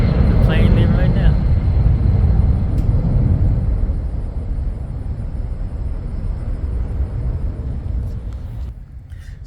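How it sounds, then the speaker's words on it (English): A plane departs from an airfield, heard as a broad, loud engine rumble that slowly fades as it moves away, with a brief whine near the start. "The plane leaving right now."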